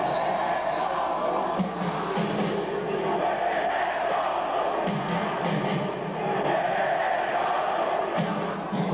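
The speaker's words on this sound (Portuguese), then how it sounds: "Torcida grita que o Rei Pelé é nosso." Fans of Penedense chant together in a stadium after a 2004 match against CSA, a steady, dense roar of many voices rising and falling in rhythmic phrases at a distance.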